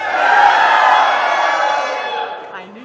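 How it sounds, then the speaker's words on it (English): A crowd of people shouts together on cue in a loud, sustained burst of voices that holds for about two seconds and then tapers off. "And that crowd was shouting."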